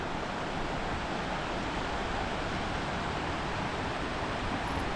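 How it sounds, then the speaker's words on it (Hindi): A river flowing past Ghuna village near Kainchi Dham temple makes a continuous, even rush of water that fills the scene steadily without pause. "नदी में बहता हुआ पानी कलकल की आवाज़ करते हुए बह रहा"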